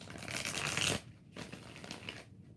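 A deck of tarot cards is shuffled close up in quick riffling bursts: a long run, a brief pause, then another softer stretch of shuffling.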